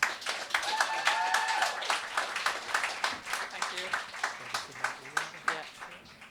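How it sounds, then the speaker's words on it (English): An audience applauds poet Samantha Melia at a poetry event, a sustained round of clapping that rises in the middle and then thins into separate, rhythmic claps, with voices heard over the first part. "Let's give her a warm applause,"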